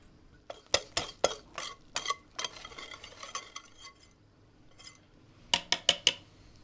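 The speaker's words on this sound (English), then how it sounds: "Now we fold in the rest of the mixture." A spoon folds soufflé mixture in a bowl, scraping and clinking against the side in a loose rhythm of sharp taps, then pausing before a quick final cluster of knocks, close and fairly quiet with no talk.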